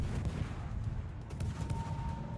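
Sustained naval gunfire from warships in World of Warships, a dense rumbling barrage of overlapping heavy booms and blasts running steadily throughout with no pause.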